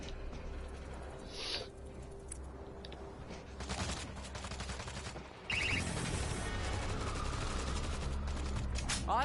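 Automated turrets in World War Z fire in a steady stream of shots, softer and scattered at first, then loud, continuous rapid fire in the second half.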